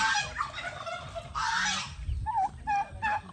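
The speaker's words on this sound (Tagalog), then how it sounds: "Ayan yung ating mga pabo dito." Turkeys gobble nearby in quick, warbling bursts, several calls overlapping in a brief, noisy outdoor scene.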